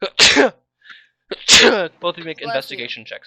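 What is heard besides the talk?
sneeze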